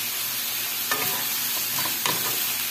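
Vegetables sautéing in a hot pan for Filipino pancit, with a steady sizzle and a couple of louder stirring scrapes, close and alone without talk.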